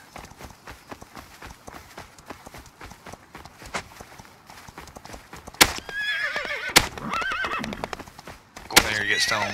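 Horse sounds in the video game Rust, with hooves clip-clopping and a neigh breaking out partway through, loud and close amid game noise and muffled voices from players.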